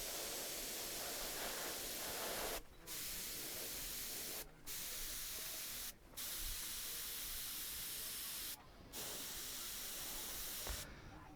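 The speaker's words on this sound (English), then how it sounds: "the further I pull back on the airbrush, the more paint that comes out." An airbrush sprays paint in a steady, soft hiss that runs in long bursts, stopping briefly four times before resuming, close and fairly quiet.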